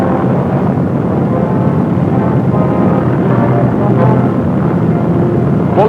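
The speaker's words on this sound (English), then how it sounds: "Fully armed, the 21st Bomber Command was taking off for Japan." Fully armed B-29 bombers of the 21st Bomber Command taking off for Japan, a loud continuous roar of heavy piston engines rumbling without pause.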